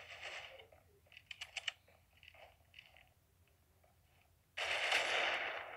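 A machine gun fires in the shooter game Critical Ops, a quick burst of sharp cracks followed by scattered faint shots, then a loud noisy blast near the end.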